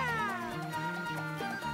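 A cat meowing in the game Bowser's Fury: one drawn-out, falling meow, fairly faint and heard on its own.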